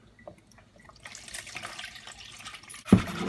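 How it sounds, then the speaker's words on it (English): Two cups of water poured into a bowl of beaten eggs for a batter: a steady, close trickling stream that starts faint and builds, ending in a louder splash as it lands. "I'm gonna add 2 cups of water"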